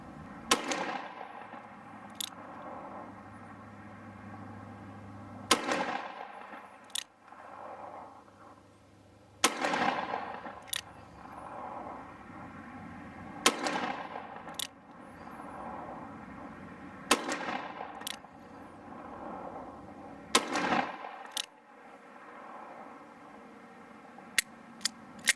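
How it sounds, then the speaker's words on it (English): A .357 Magnum revolver fires roughly six sharp outdoor shots at a steel disc brake, spaced several seconds apart. Each crack is followed by a ringing echo, with quiet pauses in between. "Here we go with the 357 Magnum."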